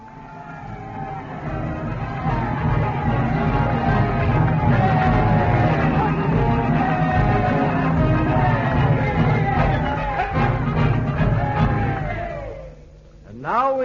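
A dense crowd cheers and roars in front of a big new building at a dedication while a band plays, a staged radio-drama effect that holds steady and loud before briefly dropping away.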